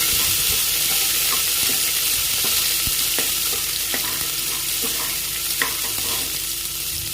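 Small onions sautéing in a pan, with steady loud sizzling and repeated spoon scrapes and clicks against the pan throughout.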